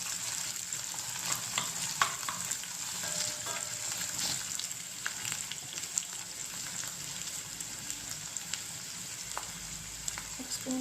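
Onions and green chilies frying in hot oil with masala for a spinach chicken curry, a soft steady sizzle with occasional scraping clicks of stirring, faint and continuous without talk.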